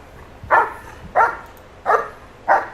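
Young working dog in drive training gives four sharp, evenly spaced barks about two-thirds of a second apart. Close by, over quiet background, with no talking.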